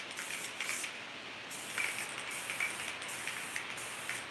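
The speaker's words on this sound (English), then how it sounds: "So I'm just going to spray my lines." An aerosol spray can hisses in short repeated bursts as lines are painted around a tumbler cup, several close, steady sprays separated by brief pauses.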